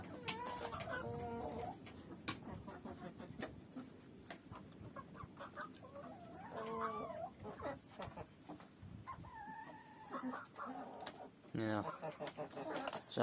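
Chickens and young roosters clucking in a winter coop, several birds calling close by in irregular bursts, with a louder squawk near the end and people talking in the background.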